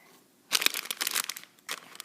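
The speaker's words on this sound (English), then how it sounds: "I'm gonna have to go ahead and scissors it." Blind-bag toy packaging crackles and crinkles in two short, close bursts as scissors cut it open, with quiet gaps between and no talk.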